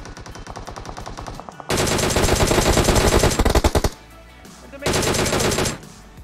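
Rapid automatic M4 rifle fire in PUBG Mobile, loud and close, coming in a lighter opening burst, then a long dense sustained volley, a brief pause, and another full burst.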